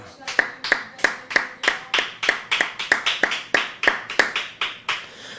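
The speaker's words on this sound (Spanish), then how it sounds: "Un aplauso al Rey de la Gloria." A church congregation claps in a steady, rhythmic beat of about sixteen sharp, echoing claps, with voices faintly audible beneath.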